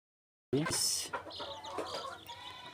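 Fayoumi chicks from a homemade incubator cheep and peep in a steady high chatter, close by, with some clucking mixed in and brief talk.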